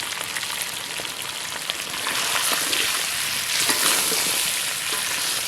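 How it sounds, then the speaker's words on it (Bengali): Water poured into a pot of village-style goat mutton curry cooking in released oil, producing a steady, loud sizzle and hiss that swells after a couple of seconds and carries on throughout with no voices. "তো এখন ঝোলের জন্য জল দিয়ে দেওয়া হবে।"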